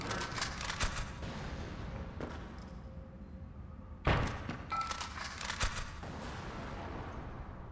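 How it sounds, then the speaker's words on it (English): A grenade explodes in the Xbox game Splinter Cell Pandora Tomorrow, a Spies vs Mercs online match: one sudden loud boom with a low thump, standing out over a continuous bed of game noise and distant gunfire-like bursts. "Oh, maybe I can blow him up here. Grenade out."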